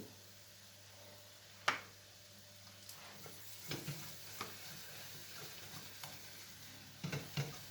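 Flour roasts in oil for an apple flour halva, giving a soft, faint sizzle under scattered scraping stirs and a sharp clink near the start.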